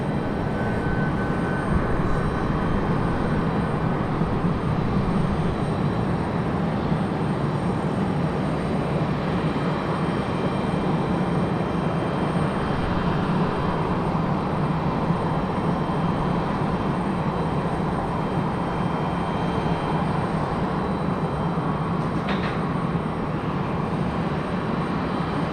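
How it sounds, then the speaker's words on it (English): Steady, far-off jet rumble from a Southwest airliner departing Raleigh-Durham International, a broad continuous roar holding level for the whole stretch with no voices over it. "Southwest heading out over here on this side."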